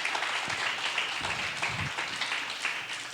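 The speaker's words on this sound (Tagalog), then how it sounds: "Sige po, palakpak po natin, Panginoon." A church congregation applauds together, with a dense, continuous patter of many hands clapping at moderate volume and no voices on top.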